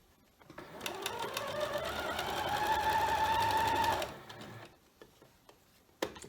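A sewing machine runs in one steady stretch of about three and a half seconds, stitching quilt block rows together with a rising whir and rapid needle ticking, then stops, followed by a few faint handling taps.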